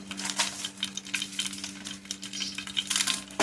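Pepper frying in about two spoons of coconut oil in a pan, a soft crackling sizzle with scattered pops and light stirring scrapes, close and fairly quiet, with a steady hum underneath.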